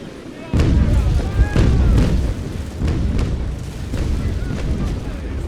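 Naval Action ship cannons fire a broadside one gun at a time, a series of deep, rumbling booms rolling over one another with a heavy sustained low roar between the blasts.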